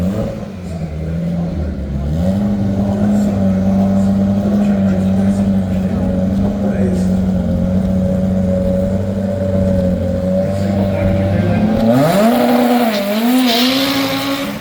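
A drag race car makes a scheduled bye run at Santa Pod. A loud, steady engine drone holds as it pulls through the gears, then shifts up sharply near the end as the revs climb, with crowd and commentary noise underneath.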